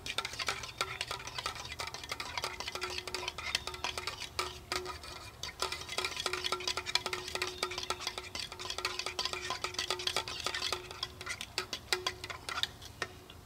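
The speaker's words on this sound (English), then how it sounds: "let me stir it up a little bit here" Spoon clinking rhythmically against a cup while stirring coffee with cream and sugar, outdoors at a bushcraft camp with an Esbit stove; steady close ticking taps with no talk.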